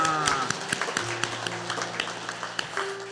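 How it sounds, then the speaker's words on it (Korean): At a Christmas church service the congregation claps in a steady rhythm, distinct hand claps landing over sustained keyboard or organ tones. "우리 기쁜 성탄의 주인공이신 예수 그리스도를 큰 박수로 영광 돌립니다"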